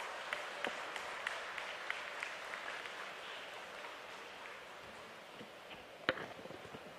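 Soft, fairly distant applause from an audience at a religious or environmental gathering, a continuous patter with a few sharper individual claps standing out.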